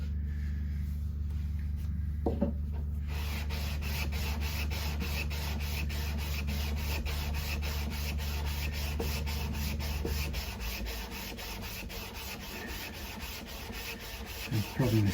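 Guitar frets on a Yamaha Compass Series 12-string being sanded with 240 grit sandpaper during a refret, a steady close rubbing and scraping in continuous back-and-forth strokes with an underlying low hum.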